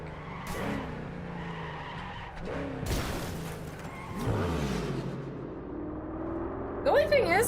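A car in Cyberpunk 2077 driving and skidding, with several loud tire squeals and engine surges in bursts over roughly seven seconds, and a voice talking over it.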